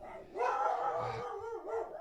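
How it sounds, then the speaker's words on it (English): Dogs bark and yowl in a continuous, overlapping burst of several howling barks, fairly close and loud, with no talking over them. "why do my dogs have to bark all the time?"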